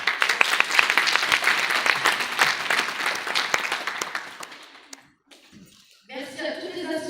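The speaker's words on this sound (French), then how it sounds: "Pour ce, j'applaudis" A crowd at the opening of a second-hand fair applauds, a broad clapping burst that tapers off into near silence before voices and room noise return.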